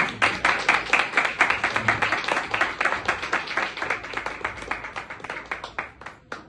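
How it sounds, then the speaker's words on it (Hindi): Clear rhythmic applause at an evangelist meeting, a crowd clapping in quick regular beats that stay strong, then thin out slightly toward the end. "प्रेज़ गॉड, जोरदार तालियां।"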